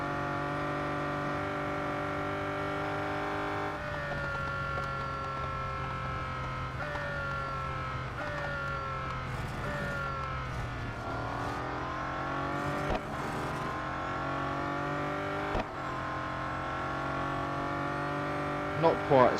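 A race car engine in the mobile game Real Racing 3 drones steadily, its pitch sweeping up through the gears and dropping on shifts, with a voice speaking over it.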